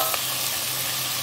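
Onions and tomatoes fry in a pan for an Indian paneer curry, giving a steady, dense sizzle close by with a brief stirring scrape near the start.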